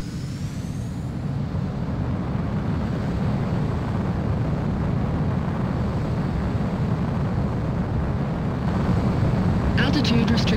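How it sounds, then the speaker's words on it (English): Fighter jet taking off in Ace Combat 04, a steady, loud broadband engine roar filling the whole stretch, swelling slightly at the end, with a voice speaking over it. "Mobius One, you are cleared for takeoff."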